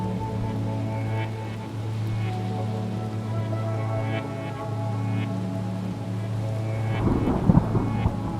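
Steady rain falls with a constant hiss, while low thunder rumbles beneath it and swells into a louder, closer roll near the end.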